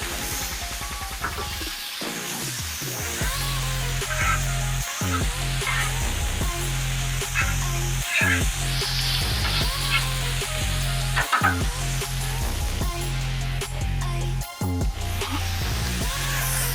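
Smash burger patties sizzle loudly on a Char-Griller flat iron griddle, a steady frying hiss broken by sharp scrapes of a spatula and butter crackling, heard up close with no talk.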